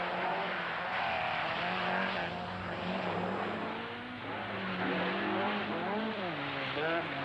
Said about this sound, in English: this car, Hannu Mikkola's Eaton Yale-sponsored Escort RS, won the rally instead